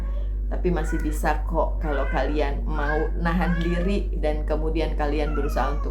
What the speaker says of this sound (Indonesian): semoga tidak terganggu ya dengan suara si kucing abu-abu itu